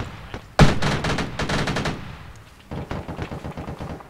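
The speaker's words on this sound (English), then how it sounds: "Machine gun to the north." Automatic machine gun fire in a multiplayer combat video game, a loud burst of rapid shots followed by a pause and then another stretch of sharper, spaced-out gunfire.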